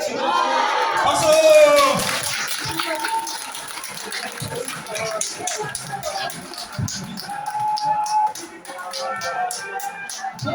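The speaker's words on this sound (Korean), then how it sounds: "뒤쪽에 박수. 다시 치고 밀어치고. 박수!" A lecture audience in a community culture class claps in bursts of sharp, scattered handclaps that thin out and return, with a voice talking over the room.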